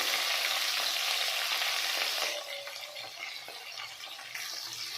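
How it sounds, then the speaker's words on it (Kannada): Sliced onions, green chillies and curry leaves fry in oil in a pan for a brinjal palya, giving a steady close sizzle that softens and quiets partway through, with faint stirring. "ಆನಿಯನ್ ಫುಲ್ ಸಾಫ್ಟ್ ಆಗೋವರೆಗೂ ಚೆನ್ನಾಗಿ ಫ್ರೈ ಮಾಡ್ಕೋಬೇಕು."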